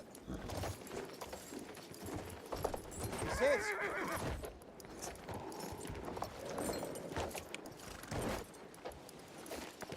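A horse in a video game gives a clear whinny midway, with rhythmic hooves clip-clopping throughout at moderate volume, some faint rattling gear mixed in.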